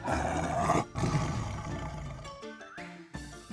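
A tiger roar sound effect, loud and close, with a rough, growling roar that breaks briefly and resumes before fading into a few sustained musical tones.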